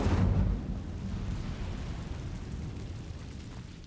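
An Incendio fire spell cast in Hogwarts Legacy bursts out as a sudden whooshing roar that quickly settles into a fading, crackling rush.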